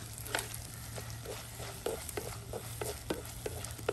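Ginger garlic paste and curry leaves frying in hot oil in a pan, a steady soft sizzle broken by frequent light stirring scrapes and small pops, close and moderately quiet under a low background hum.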